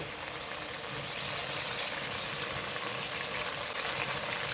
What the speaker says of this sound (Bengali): সেই টমেটো কুচিটা এখন দিয়ে দেবো এই মশলার সঙ্গে ভালো করে কষিয়ে নেব